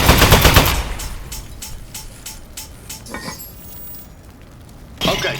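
Rapid automatic gunfire in the video game Aperture Desk Job, a loud dense burst at the start that thins into scattered clinking shots and debris, ending with another short loud burst.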